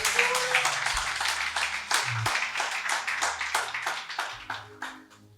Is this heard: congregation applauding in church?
yes